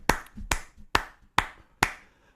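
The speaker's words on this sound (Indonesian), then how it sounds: "Jadi dari awal tepuk tangannya masih begini, nanti meningkat udah ref." Five sharp, evenly spaced hand claps at a moderate, steady tempo, demonstrated during a worship-team training session; each clap is crisp and close with a quick decay and nothing else in between.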